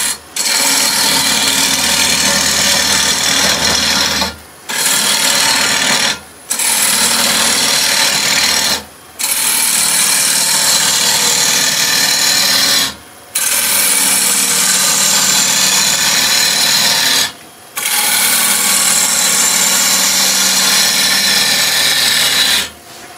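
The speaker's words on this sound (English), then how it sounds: "Now we're going to start just doing a little bit of hollowing." A wood lathe hollows a bowl from scrap wood, the gouge cutting in a loud, continuous rasping whirr that stops briefly five times between passes.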